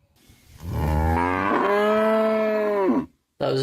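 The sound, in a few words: cow giving an angry moo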